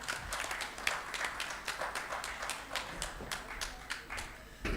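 Modest applause at an evening education course event, a small audience clapping in a loose, uneven patter of hand claps, fairly faint and steady for several seconds.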